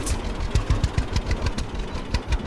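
Tractor engine idling in the farming game Farmer's Dynasty, a low steady chugging with regular knocking pulses, close and alone.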